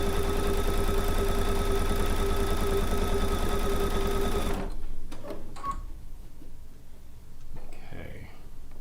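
A sewing machine joins fabric pieces along their raw edges in a steady fast mechanical whir for several seconds, then stops, leaving a quiet room with small handling sounds and a voice speaking.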